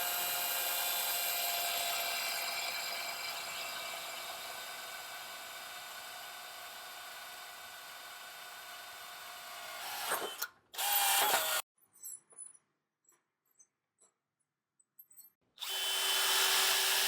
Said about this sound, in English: Once you've drilled the holes, you will then fasten the 2x2 angle to the wall.